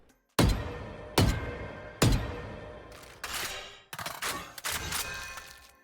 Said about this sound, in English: I think the sound design for Mystbloom is where it takes the lead, as they did an incredible job on the shooting sound